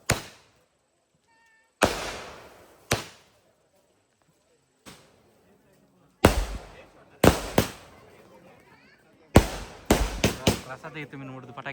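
Diwali firecrackers bursting at a home celebration, sharp loud bangs spaced apart at first, then coming in quicker clusters toward the end, each with a brief decaying tail.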